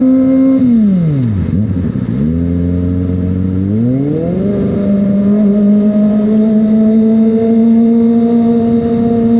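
Engines idling and revving in a road traffic jam beside a Kawasaki ZX-25R, a close, loud motor whose pitch drops low, holds, then climbs back to a steady higher drone.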